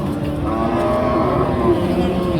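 Cattle at a weekly border-area livestock market, where small, bony local-breed cows are sold, with a steady crowded din of animals and people and no single clear moo standing out.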